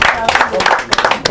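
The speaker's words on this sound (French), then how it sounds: "Est-ce qu'on peut applaudir?" Audience at a Paris press conference applauding, a brief spell of scattered, fairly close claps mixed with voices talking over them.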